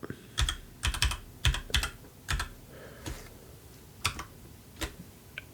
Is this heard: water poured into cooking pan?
no